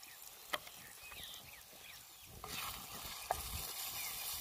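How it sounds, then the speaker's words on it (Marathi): Onions and spices fry in hot oil in a pan, a soft steady sizzle stirred now and then, with a few sharp clinks of a utensil and a louder crackling spell midway. "ते आता शिजून घेते आधी तेलात."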